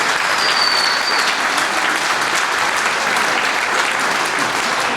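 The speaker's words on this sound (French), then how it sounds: "Oui, vous pouvez l'applaudir." A crowd at a Sainte Barbe ceremony gives sustained, loud applause, a thick unbroken roar of many hands clapping with no talk over it.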